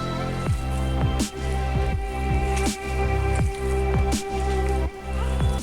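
Minced meat is kneaded by hand with chopped onion and tomato for chapli kebab, making close, wet squelching squishes at a regular pace of roughly one every second, set over steady background music.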